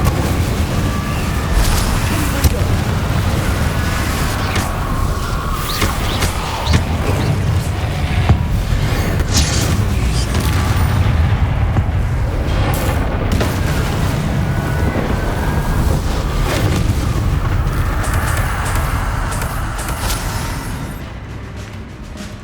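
Spell blasts in the video game Hogwarts Legacy: continuous roaring, rumbling explosions and whooshing bursts pile up for about twenty seconds, loud and dense, easing slightly near the end.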